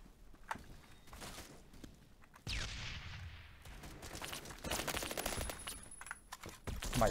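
Gunfire in the Roblox shooter Phantom Forces, rapid automatic bursts and scattered shots, some near and sharp, others farther off, over steady background game noise.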